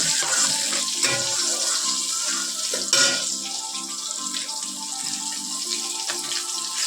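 A rohu fish head fries in hot oil in a pan for cooking with Malabar spinach, giving a steady loud sizzle and crackle with occasional pops and light clinks of utensils throughout.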